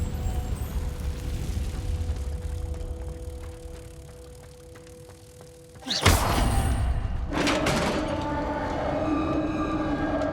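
Confringo blasting spell cast in the Hogwarts Legacy video game: a quiet stretch with steady tones, then a sudden loud booming blast followed by a second burst and a lingering rumbling crackle.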